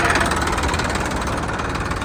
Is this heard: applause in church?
no